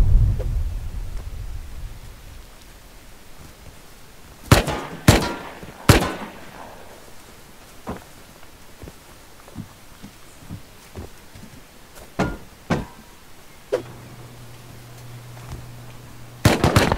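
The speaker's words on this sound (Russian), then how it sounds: "С болтовки, по нам с болтовки стреляют." Bolt-action rifle gunfire during a Rust video game raid: sharp single shots spaced seconds apart, some close and loud, others fainter, over a quiet background with a brief low hum.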